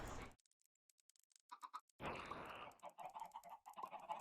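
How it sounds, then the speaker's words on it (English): Chickens clucking in Minecraft, sounding as a few short, squawky bird calls in bursts, with a brief sound near the start and louder clucking clusters after the midpoint over a steady game background. "Chickens are loud."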